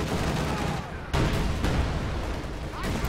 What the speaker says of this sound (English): there's HolySheet laying down the incendiary artillery